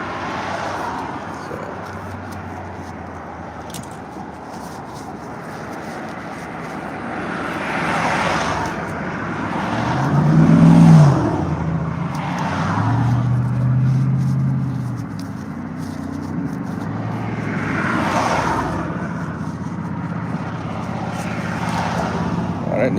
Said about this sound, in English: That Nissan sounds terrible.